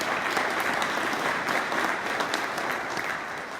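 Steady audience applause at a community benefits announcement, a dense wash of clapping that holds evenly and then tapers slightly toward the end.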